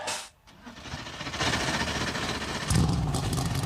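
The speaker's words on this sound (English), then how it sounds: "Drivers, start your engines." NASCAR Cup Series race car engines firing up and idling at the Chicago street race, a dense, loud, steady rumble that swells after a brief dip and deepens as more engines join.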